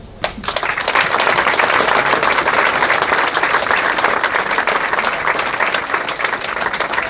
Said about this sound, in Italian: a loro va un grosso applauso